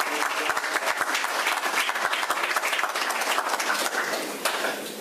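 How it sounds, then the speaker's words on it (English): A community breakfast meeting crowd claps steadily, many hands beating in a lively patter that stays strong before easing slightly at the end. "That was a pretty good clap."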